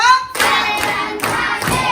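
A class of students claps hands together on a teacher's count, a short voice followed by a few sharp, close group claps spaced roughly half a second apart.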